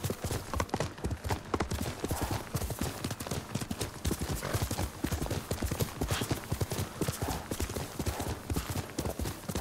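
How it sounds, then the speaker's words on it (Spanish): Horse hooves clip-clopping in the Ghost of Tsushima video game, a steady rapid rhythm of hoofbeats at close range, fairly quiet and continuous. "No, voy con el caballo."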